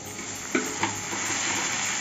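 Spices splashed with a little water hiss and sizzle in a hot frying pan with turmeric, salt and sugar, a steady close steamy hiss with two brief sharp pops near the start.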